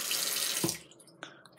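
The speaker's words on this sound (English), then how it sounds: "we're gonna make it a water balloon" Tap water runs hard from a faucet to fill a water balloon, a loud steady hiss that cuts off sharply, followed by a couple of faint drips and small knocks in a quiet room.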